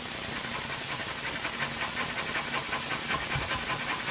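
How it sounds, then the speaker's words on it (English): Cauliflower rubbed against a grater for cauliflower fried rice, a steady close scraping hiss with repeated strokes running throughout, no voices. "I'm grating some more cauliflower"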